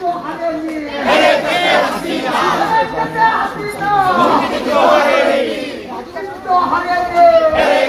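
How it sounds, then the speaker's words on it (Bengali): A large protest crowd chants slogans in unison during a street march, loud rhythmic shouted voices rising and falling in repeated phrases, close and continuous with crowd noise behind. "চব্বিশকে চব্বিশ এবং একাত্তরকে নিয়ে তারা কিন্তু স্লোগান দিচ্ছে"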